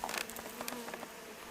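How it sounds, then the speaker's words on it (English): Honey bees clustered around a caged queen give a brief, close, steady buzzing hum with small fluttering bursts, heard alone without voices. "she's surrounded by that cluster of bees"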